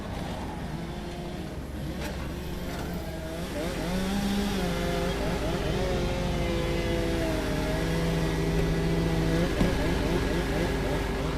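A tracked skid loader runs steadily at a walnut firewood site, its diesel engine holding a loud, continuous drone with shifting tonal hums and a brief rise in revs partway through, no voices over it.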